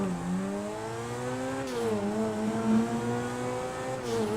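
A car in GTA V accelerates through the gears without double clutching, its engine whine climbing steadily in pitch, dipping briefly at a gear change, then rising again as a continuous, fairly loud drone.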